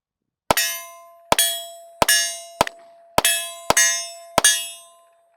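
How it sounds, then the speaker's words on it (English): Seven sharp metallic pings ring out one after another as bullets strike steel targets, each hit leaving a bright, lingering ring from the steel plate. "shooting steel is just fun to hear that ping"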